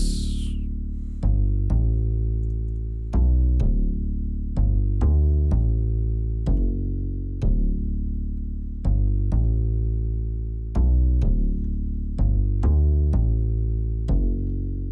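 An FL Studio stock acoustic bass plugin plays a slow line of deep, round plucked notes, each decaying quickly, in a steady repeating pattern with no other instruments.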